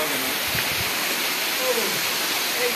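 A hillside waterfall roars as a steady, loud wash of rushing water, filling the whole short stretch without pause.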